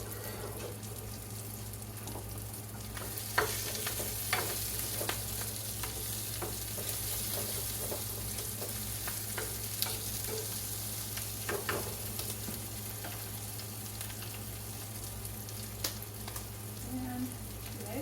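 Scrambled egg frying in a pan over lowered heat, giving a soft continuous sizzle with scattered spatula scrapes and taps throughout, fairly quiet and close.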